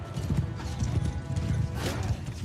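Hooves of a warrior priest's horse in a video game, a quick rhythmic clip-clop of trotting close up with low thuds, with a brief whinny-like burst partway through.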